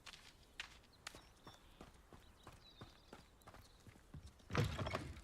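Chickens in the video game Hogwarts Legacy make oddly loud footsteps, a quick series of sharp, clopping taps with a heavier thump near the end, heard alone at low volume.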